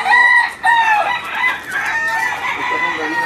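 Loud clucking and crowing from chickens and a rooster close by, overlapping calls that continue throughout.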